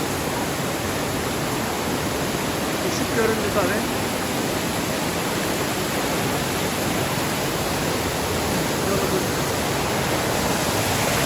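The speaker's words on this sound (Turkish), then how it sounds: "Suyu görüyorsunuz, sesini duyuyorsunuz." Steady rushing water from a waterfall inside Kaklık Cave in Denizli, Turkey, pours without pause, a broad hiss echoing in the enclosed space, with a brief spoken remark partway through.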